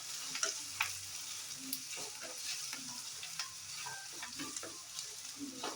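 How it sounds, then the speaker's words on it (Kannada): Dried red chillies frying in hot oil for avalakki chitranna, giving a steady close sizzle with scattered pops and crackles and light stirring scrapes throughout. "ನಾನು ಒಣಮೆಣ್ಸಿನ್ಕಾಯಿ ಹಾಕ್ತಾಯಿದ್ದೀನಿ. ಅದನ್ನು ಫ್ರೈ ಮಾಡಿಕೊಂಡು"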